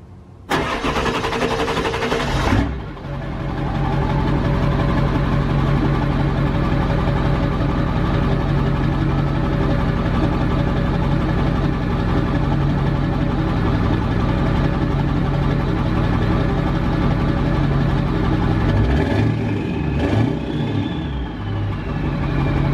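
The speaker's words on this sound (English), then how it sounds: "it sounds incredible" A 2000 Ford F250 7.3 Powerstroke diesel truck engine cranks and fires up, then settles into a loud, deep, steady idle with a throaty exhaust rumble that continues without a break.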